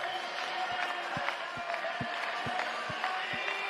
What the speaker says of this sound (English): Get those hands clapping.